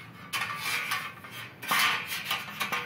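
A steel fire pit part being flipped over, giving several sharp metallic clanks and scraping knocks close by, with quiet gaps in between and no talking.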